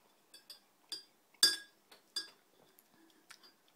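Coffee cups clink together in a toast, a handful of light, bright taps spread over a few seconds, fairly close and moderately soft, with no talking over them.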